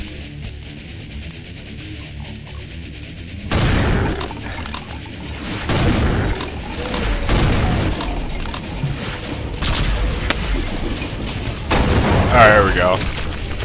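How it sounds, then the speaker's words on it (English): Rocket explosions in Doom 2 with the Brutal mod, repeated loud booms and blasts bursting every second or two amid gunfire, with someone talking briefly over them. "Rockets everywhere!"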